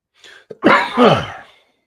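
A man's single harsh, rasping cough bursts out after a quick intake of breath, close and loud, then trails off into silence.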